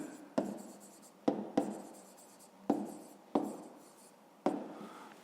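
A pen scratches on paper in a math exercise, with six short strokes each starting with a sharp tap and fading, close and quiet with no talking.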